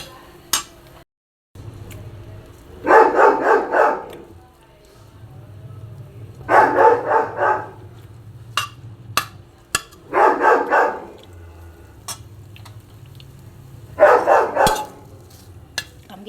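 Pet dog Duster barking in short bursts from another room of a Goan home kitchen where pork chilli fry is being cooked, four separate clusters of barks over a low background hum with light clinks of cookware.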